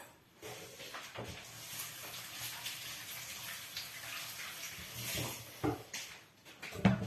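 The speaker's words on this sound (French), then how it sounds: "Je vais me rincer les mains." Hands rinsed under a running kitchen tap during pastry making, a steady close splash of water lasting several seconds before a few knocks and clatters as it stops.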